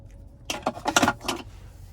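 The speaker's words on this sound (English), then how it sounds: "there's your key fob with remote start" The key fob of a 2021 Nissan Titan Platinum Reserve jangles close up in a brief burst of metallic clinks about a second long, with no talking.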